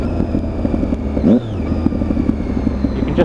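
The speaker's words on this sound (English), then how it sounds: "You can just hear the burble of that aftermarket can" A Triumph Daytona 675 motorcycle fitted with an aftermarket exhaust can rumbles at close range with a low, uneven burble and brief throttle changes during a road ride.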